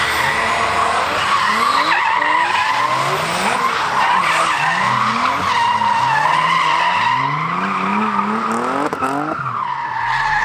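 Cars drift around an urban track, tyres squealing in long rising and falling screeches over loud, revving engines, sustained and close throughout with no talk.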